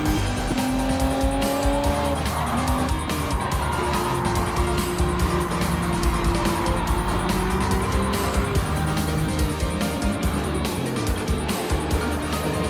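Race cars in a racing video game, including a Porsche 993, roar through a corner with steady engine drone and rising, falling gear whines, tires squealing loudly and continuously throughout.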